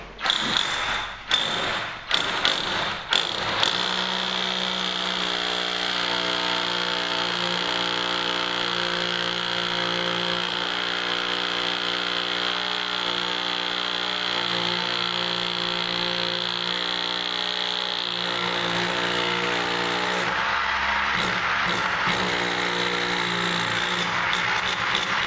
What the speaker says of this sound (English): what I'm going to do, I'll drill out a sample.